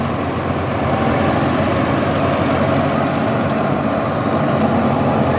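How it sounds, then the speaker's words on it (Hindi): Farmtrac 6060 tractor working a 7 ft rotavator in a field, its engine a loud, steady, close-up drone with a low rumble that holds without a break and has no talking over it. "देखो चल पड़ा रोटावेटर आराम से"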